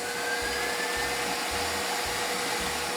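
A steady electric mixer whirs continuously, whipping egg whites with cream of tartar into meringue for macarons, a loud, even motor drone with no talk.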